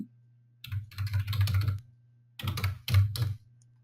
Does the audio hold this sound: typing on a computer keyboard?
yes